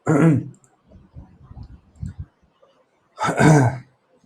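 A harsh throat-clearing cough bursts out, followed by a few quiet clicks and small throat sounds, then a second rough cough, close and isolated.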